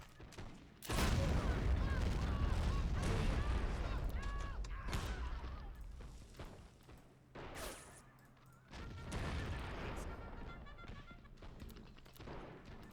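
Cannon and musket fire boom through a Napoleonic Wars line battle in the Heroes of the Napoleonic Wars mod, a heavy blast followed by a long rumbling roll and later volleys, with voices under the din.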